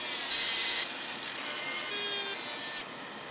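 A power tool cuts off the front portion of a metal cylinder during a gearbox modification, producing a continuous harsh, hissing grind up close that stops abruptly near the end.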